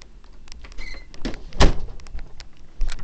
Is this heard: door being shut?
yes